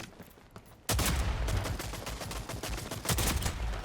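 Shotgun fire in the online shooter Rogue Company starts abruptly after a quiet moment, then continues as a dense run of loud, close blasts and rattling impacts with brief dips between bursts.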